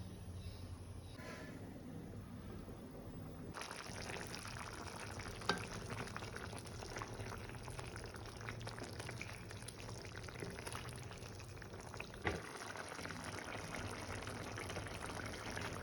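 Chettinad chicken masala with half a cup of water simmering under a closed lid over a medium flame, giving a steady, low bubbling and sizzling hiss throughout with a couple of faint clinks.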